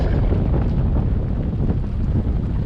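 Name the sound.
storm wind hitting a sailboat at sea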